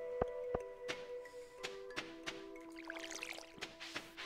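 Crops are watered with a watering can in the Stardew Valley video game: faint, repeated splashy taps with watery pouring and trickling between them, quiet and without talk.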